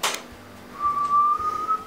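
A person whistles a single steady, sustained tone close by, following a short burst of noise, with faint background hum and no talking.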